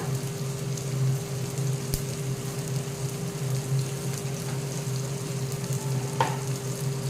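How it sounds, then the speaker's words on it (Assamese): Onions fry in hot oil with chicken masala and coriander powder for a local chicken dish, a steady close sizzle with a spatula occasionally scraping and knocking the pan. "কিছু সময়ৰ কাৰণে ভাজি ল'ম"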